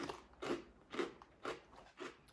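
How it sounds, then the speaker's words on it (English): Crunchy funnel cake with powdered sugar being chewed close up, five evenly spaced crisp crunches at a steady rhythm, faint and with no talking. "It's a crunchy funnel cake and it's really awesome."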